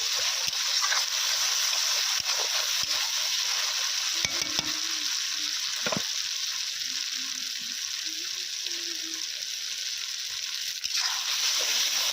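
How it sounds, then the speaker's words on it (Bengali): Ginger and garlic sizzle in a pan with tomato melted down for a village-style chicken curry. A steady, loud frying hiss fills the whole stretch, with a few stirring scrapes. "টমেটোটা গলে গিয়েছে, এবার দিয়ে দেবো আদা রসুন।"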